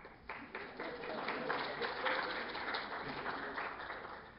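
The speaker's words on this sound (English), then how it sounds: "You shouldn't be clapping." A lecture audience claps throughout, with a dense, moderate patter of hands heard in a hall for several seconds and speech faintly mixed in.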